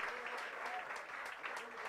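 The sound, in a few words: audience applause for the trio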